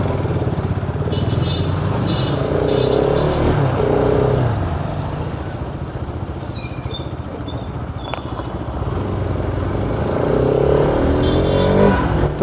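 A motorbike engine drones steadily while riding, with a couple of rising revs, loud and continuous across the whole stretch, with a few faint high chirps on top.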